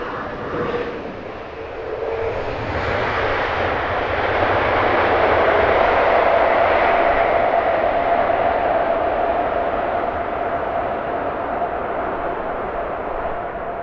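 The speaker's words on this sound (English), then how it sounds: "Noisy reversals on touchdown." Emirates airliner touching down at Heathrow with its thrust reversers deployed, heard as a loud, sustained jet roar that swells after a few seconds. It holds steady with a droning tone, then slowly eases as the aircraft rolls out.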